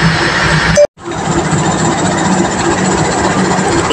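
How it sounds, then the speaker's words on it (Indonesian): Cikuray passenger train hauled by a CC206 diesel locomotive at Garut station in the morning, a loud steady low engine rumble and hum, briefly cut near the start, then continuing evenly. "Lokomotif dinas dari kereta api Cikuray di pagi ini adalah lokomotif CC206 1392 Ripo Induk Yogyakarta."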